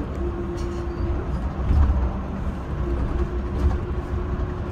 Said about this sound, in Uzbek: avtobus ichidagi kadrlar